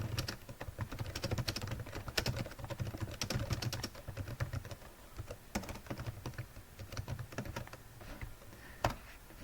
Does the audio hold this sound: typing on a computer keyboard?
yes